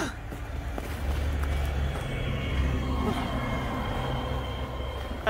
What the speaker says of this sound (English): Garbage truck is still doing its work.